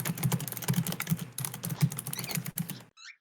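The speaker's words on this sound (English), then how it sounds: "You're doing really spastic typing." Rapid typing on a computer keyboard, a dense, fast clatter of close keystrokes in quick bursts that stops abruptly near the end, with a brief faint voice after.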